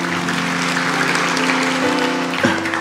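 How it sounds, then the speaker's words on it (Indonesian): A congregation clapping during a church sermon, dense steady applause filling the room, with held musical tones underneath. "Kasih tepuk tangan untuk Tuhan"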